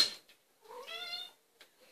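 A house cat gives one clear, drawn-out meow at close range, framed by soft rustling and otherwise quiet.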